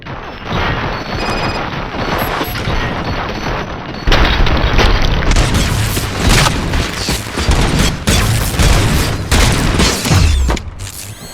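Bursts of gunfire and heavy booms from a RoboCop: Rogue City cutscene, loud and dense, with a sharper onset about four seconds in, mixed with mechanical clanks and crashes.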